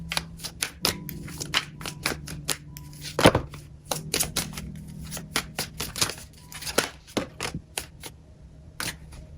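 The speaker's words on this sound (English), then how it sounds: "I'm going to shuffle these 3 times and then pull out 5 cards." Tarot cards are shuffled by hand in repeated bursts of crisp riffling and sharp slaps, close and dry, with pauses between rounds.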